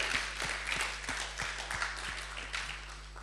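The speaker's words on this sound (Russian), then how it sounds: "Воздайте ему аплодисменты" A church congregation claps together in a steady, rhythmic beat at a bilingual Russian-Latvian service, moderately loud with overlapping hand claps and a low hum underneath.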